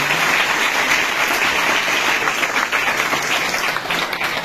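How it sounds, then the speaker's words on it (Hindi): Loud, vigorous applause from a group at a coaching class session, dense continuous clapping close by that holds steady for several seconds without talk. "बहुत बढ़िया, एक बार जोरदार तालियों के साथ"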